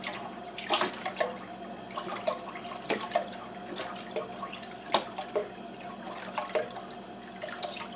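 Liquid, likely broth, poured into a pan for turkey and dumplings, a steady running-water wash with scattered splashy bursts, close and moderately loud, no voices.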